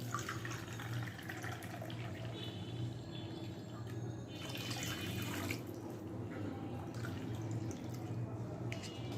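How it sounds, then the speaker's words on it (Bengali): Water poured onto sugar in a pot for making sugar syrup gives a steady, fairly faint splashing trickle throughout, with a low background hum and no talking. "এখন দু কাপ চিনির জন্য চার কাপ পানি দেবো"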